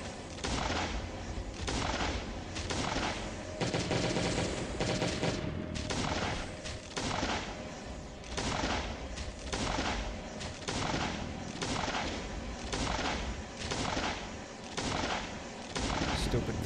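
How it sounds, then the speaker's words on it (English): Flare gun firing in the survival video game Last Day on Earth: a rapid series of loud, sharp cracking shots repeating about every second over a dense, noisy background. "Stupid flare gun"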